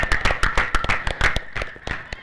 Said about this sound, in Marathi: जर इनिंग आवडली असेल समीर तावरेची तर टाळ्या व्हायलाच पाहिजे